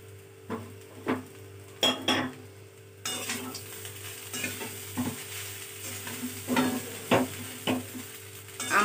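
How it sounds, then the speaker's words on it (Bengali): Vegetables and raisins being stirred in a pan for chira pulao, with a spoon scraping and clinking against the metal in irregular strokes over a soft, steady sizzle of frying. "সবজিগুলো মিশিয়ে নিয়ে একটু নাড়াচাড়া করার পরে আমি ওপর থেকে একটু কিশমিশ ছড়িয়ে দিচ্ছি।"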